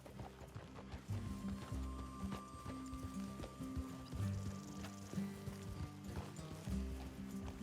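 Horses' hooves clip-clopping in Red Dead Redemption 2, a steady close rhythmic plodding that carries through the whole stretch, with a faint whinny and low background sound.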